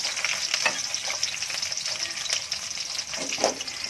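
Small onions sauté in hot oil with fenugreek seeds for Kumbakonam-style vathal kuzhambu, giving a steady close sizzle and crackle with occasional stirring scrapes and no talking.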